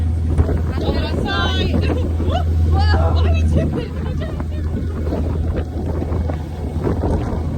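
Gusty wind buffets the microphone with a heavy low rumble throughout, while people talk and shout over it near the water in Sydney.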